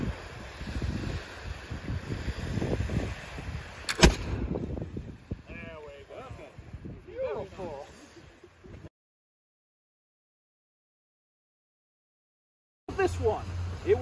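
A colonial-era gun fired on command at an outdoor historical demonstration in Michigan: a single sharp, loud report cuts through wind noise, followed by talk and crowd murmur before the sound drops out.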